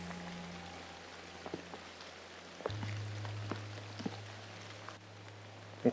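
Light rain falls at Loch Chon in Scotland, scattered soft drops pattering on surfaces over a low steady hum, quiet and close.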